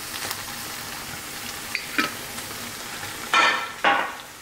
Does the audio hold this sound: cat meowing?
no